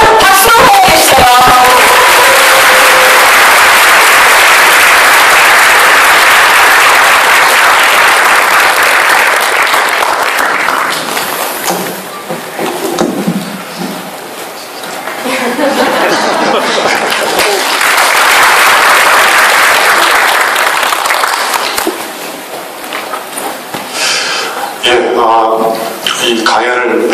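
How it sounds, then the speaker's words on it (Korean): An audience at a book lecture applauds to welcome the speaker, a loud sustained ovation that dips briefly midway, swells again, then fades as a voice starts to speak. "여러분 박수로 호응해주세요."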